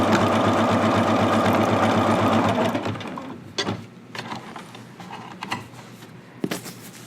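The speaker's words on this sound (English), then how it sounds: "And just sew down the other side." A sewing machine stitches down a waistband in a fast, continuous whirring run for about three seconds, then stops, followed by a few faint clicks and handling sounds.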